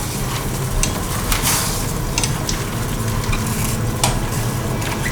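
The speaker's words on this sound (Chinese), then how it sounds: "把青江菜放进来烫" Bok choy dropped into a pot of boiling water with a little oil and salt, giving a steady loud bubbling hiss with a few brief clinks, no voices.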